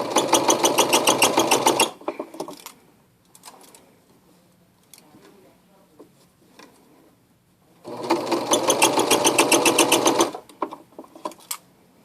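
Sewing machine stitching a seam, with two loud bursts of rapid needle clatter about two seconds each, separated by quiet handling noises and light clicks.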